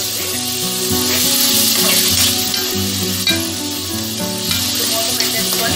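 Tomatoes cook down in a pan for a green peas masala with a steady sizzle and frying crackle, heard under continuous background music throughout.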